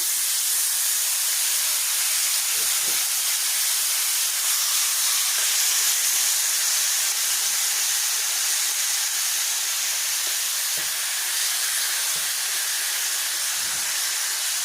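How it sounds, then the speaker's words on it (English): Loud, continuous sizzling and hissing of chicken frying in hot oil in an electric skillet, steady throughout with occasional faint knocks. "I'm just gonna keep frying, and then I'm gonna turn the meat as we go along"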